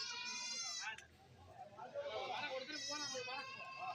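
Goat kid and mother goat bleating at a rainy market, repeated quavering bleats near the start and again near the end with a lower murmur of activity between.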